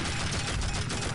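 Dense sniper gunfire and explosions fill a moment of the video game Tribes: Vengeance, a loud, continuous barrage with no gaps.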